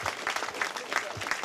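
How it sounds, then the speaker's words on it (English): An audience claps at a Boston housing opening ceremony, a brief, quiet patter of steady hand claps. "He deserves a second round of applause anyway."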